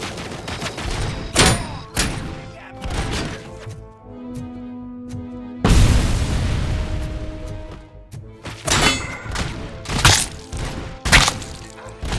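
Grenade blasts and heavy gunfire in the Robocop Rogue City shooter game, sharp booming bursts and rapid shots in clusters, one big explosion in the middle ringing out loudly.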